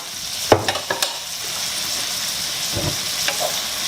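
Crab meat stir-fried in a hot wok with bird's eye chilies, a soft sizzle running under a few sharp spatula scrapes and clinks, close and moderately loud, with no one talking.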